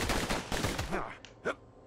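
Gunfire in the video game Bastion, a burst of rapid shots with broadband cracks that thin out over two seconds, followed by a couple of sharper isolated hits, moderately loud in the game mix.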